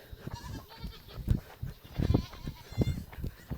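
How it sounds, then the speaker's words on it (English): Goats escaping their pen bleat repeatedly in short, uneven bursts, several calls close by and overlapping. "the goats are getting out"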